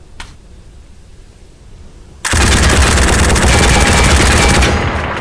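A light machine gun opens up after a short quiet stretch, unleashing a loud, sustained burst of rapid automatic fire that keeps hammering for about three seconds before the clip ends.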